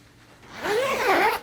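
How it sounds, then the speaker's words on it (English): Zipper on a Snugpak Jungle sleeping bag being drawn open along the bottom, one steady rasping pull that swells over about a second, close and clear with no talk. "And you can unzip the whole bottom of the bag there."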